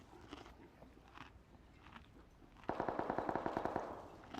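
Distant gunfire in a shooting video game, a rapid burst of about a dozen evenly spaced automatic shots after a quieter stretch of faint scattered pops and ambient noise.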